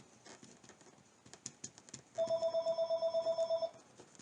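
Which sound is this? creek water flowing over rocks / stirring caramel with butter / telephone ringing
telephone ringing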